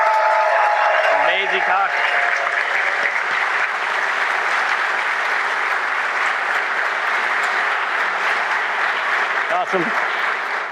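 Sustained audience applause at the XOXO Festival 2013 honouring the conference organizers, a dense wash of clapping that fills the whole stretch, with brief spoken remarks near the start and close to the end.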